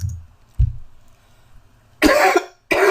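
Two harsh coughs close to the mic, each a sharp burst, preceded by a couple of low throat sounds and breathing.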